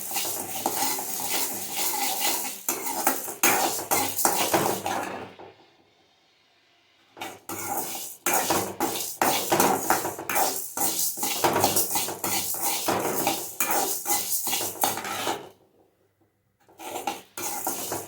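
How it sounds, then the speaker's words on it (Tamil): A utensil scrapes and clatters against a metal pan as lentils are stirred and fried, making dense rapid clinks and scrapes close up, broken by two short quiet gaps. "இப்போ அடுப்பை கொஞ்சம் ஃபுல்லாக வச்சுட்டு நல்லா ஃப்ரை பண்ணிகிட்டே இருங்க."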